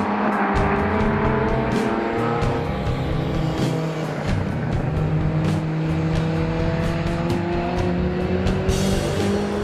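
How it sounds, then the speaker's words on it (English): Marcos Volvo GT race car running off into the gravel at Druids during a historic GT race, its engine droning loudly and steadily close by with some tire noise, no talk. "Now it's the Marcos Volvo GT of Sulan Ricketts' turn to find the gravel at Druids"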